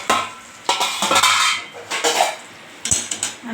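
A metal lid lifted off a pot of Punjabi kadhi, with several sharp close clanks and scrapes of metal on metal in quick, irregular bursts.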